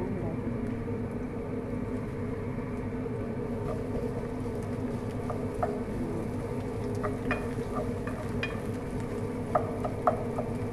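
Sliced onion frying in hot cooking oil in a home kitchen pan, a steady low sizzle with occasional light clinks and scrapes while a person talks over it.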